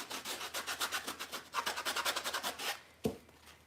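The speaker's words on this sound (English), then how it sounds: "You can sand him up." Sandpaper rubs a small wooden primitive snowman craft in quick, even back-and-forth strokes, about a dozen close rasping passes in two bursts, ending with a single light knock.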